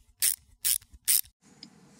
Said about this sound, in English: you're going to take a Phillips screwdriver and undo